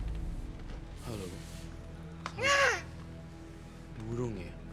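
A crow caws with a few harsh, rising calls, one louder in the middle and a fainter one near the end, over a steady low background hum.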